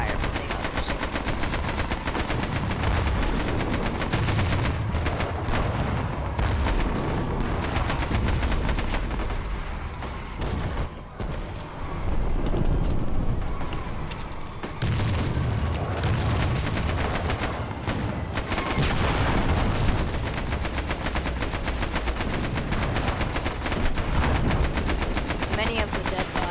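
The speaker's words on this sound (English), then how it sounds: "I started cover fire from the other soldiers." Dense, sustained gunfire from soldiers in a Roblox World War 1 battle game, with rapid machine-gun bursts and overlapping rifle shots rattling almost without pause, loud and close throughout.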